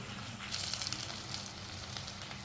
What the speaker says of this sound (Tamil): இப்போ நான் தாளித்து கொட்டிட்டேன்